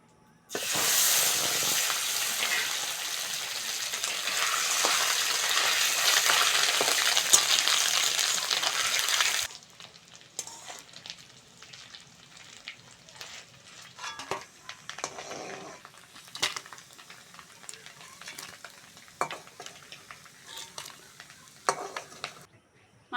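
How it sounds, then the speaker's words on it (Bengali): Fish roe fries in oil: a loud, dense sizzle fills the first several seconds, then drops to a softer crackle broken by scattered spoon-and-pan clinks and scrapes. "ওই তেলের মধ্যে মাছের ডিমগুলো ভেজে নেব"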